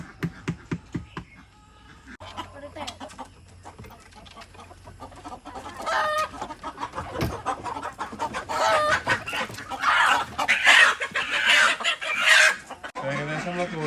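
A flock of chickens clucks and squawks while being fed household scraps, sparse at first and then growing busier and louder, with overlapping calls and a brief rooster crow near the middle.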